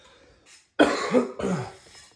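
A short burst of harsh coughing, close and loud, a couple of rough coughs in quick succession after a soft sound and a brief silence.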